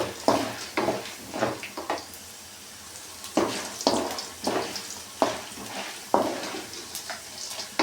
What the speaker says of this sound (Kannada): ಕಡಲೆ ಬೀಜ ಎಲ್ಲ ಚೆನ್ನಾಗಿ ರೋಸ್ಟ್ ಆಗಬೇಕು